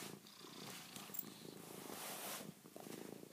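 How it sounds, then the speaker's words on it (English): A pet cat purring close up, a steady soft rumbling purr that runs without a break, quiet and alone with no talking. "that's just my cat Lucky."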